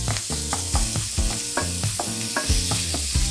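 Pork stir-fried in a pan is broken up with rapid, rhythmic strokes of a spatula, each scrape landing over a bright, steady sizzle at close range.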